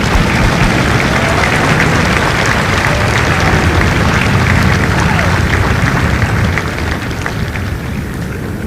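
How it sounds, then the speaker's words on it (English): Loud, dense applause from a large audience at a Marine Corps recruit graduation at MCRD San Diego, a sustained roar of clapping that eases slightly toward the end. "let's give these family members from Company H a round of applause."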